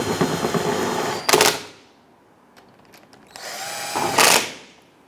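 A power tool snugs bolts on a plastic skid shield beneath a 2011-2021 Jeep Grand Cherokee 3.6L V6: two close, loud whirring bursts, each ending in a sharp ratcheting clatter, with a quiet gap between.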